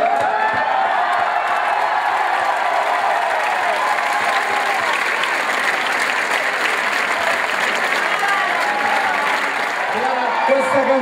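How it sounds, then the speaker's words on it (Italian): A concert crowd at Altavilla Milicia applauds loudly and continuously, with dense clapping, scattered cheers and whoops, and singing or talking audible over the noise throughout. "Oh, ragazzi, facciamogli un applauso."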